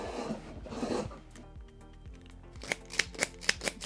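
A fiber optic connector cleaner clicker is handled with soft rubbing and scraping at first, then a string of sharp, quick clicks rings out close and quiet near the end.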